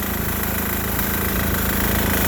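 A 6HP diesel engine on a Sears Suburban garden tractor idling outdoors in cold weather, a steady rapid low chugging knock, loud and close, running alone without talk.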